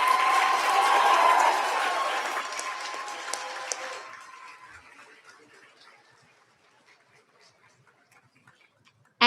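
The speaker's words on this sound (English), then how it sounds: "Let's give them all one more round of applause." Audience applause at a health sciences and nursing pinning ceremony, a full crowd clapping loudly at first, then thinning out and fading to a few scattered claps and quiet.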